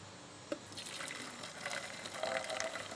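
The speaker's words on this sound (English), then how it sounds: "See how I'm just kind of pouring a little bit? Pours really well actually." Water poured from a cheap ultralight camp cooking pot with a rolled edge, a thin trickling stream that starts with a small knock and builds gradually into a steady close pour, no voices.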